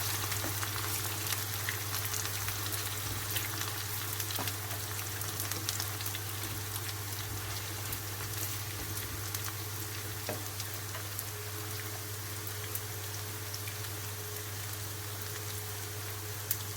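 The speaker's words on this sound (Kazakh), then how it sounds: "Қатты қуырып жібермейсіздер, яғни орташа қуырамыз" Eggplant frying in a pan over medium heat, a steady close hiss of sizzling oil with scattered tiny pops, continuous and fairly faint, with no talk.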